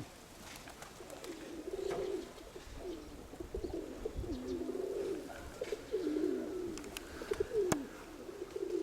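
Pigeons coo repeatedly in soft, throaty low rolls, several overlapping calls close by, with faint rustling and background noise between them.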